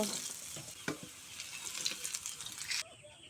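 Potatoes frying in oil are lifted with a spatula, sending a soft sizzle through the clip with a few sharp scrapes near the start, all fairly faint before the sound cuts off abruptly near the end.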